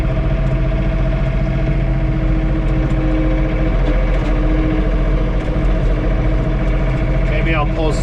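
A John Deere 3046R compact tractor engine idles steadily inside the closed cab during a blizzard with blowing snow, a continuous low mechanical hum with no breaks.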